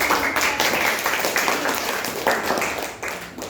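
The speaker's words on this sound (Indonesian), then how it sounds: "berikan tepuk tangan kepada" Classroom students applaud a group that has just finished its presentation, a dense, steady patter of many hands clapping at close range for a few seconds, fading slightly at the end.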